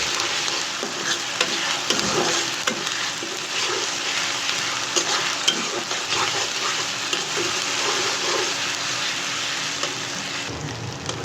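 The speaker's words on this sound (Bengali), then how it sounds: "আর এখন দিয়ে দিচ্ছি 1 চামচ আদা আর 1 চামচ রসুন, একটু ফ্রাই করে নেব।" Ginger and garlic frying in a hot pan give a steady, continuous sizzle with occasional stirring scrapes, close and uninterrupted for the whole stretch, no voices over it.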